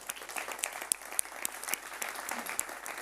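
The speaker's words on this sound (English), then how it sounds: "I really want to Give yourself a big round of applause" Audience applauding at a live anniversary show, a dense steady wash of many hands clapping with scattered sharper claps standing out, fairly close and sustained throughout with no talk.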